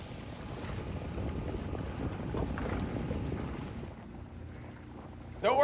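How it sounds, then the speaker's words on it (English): Rowing boats moving steadily across open water during steady state training, with broadband wind and water noise rushing throughout and a louder burst near the end, no clear speech. "Nice steady state rowing."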